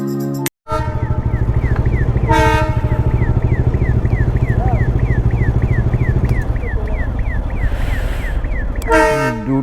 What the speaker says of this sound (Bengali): দুটো ট্রেন, একটা গেল আর একটা আসছে।